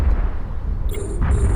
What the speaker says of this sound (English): I really love the explosions, the new explosions with the recent update